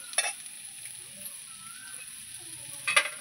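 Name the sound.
marinated chicken sizzling as it is fried in a pan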